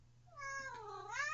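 A cat meows once, a clear rising and falling call lasting about a second, close and alone over a faint low hum.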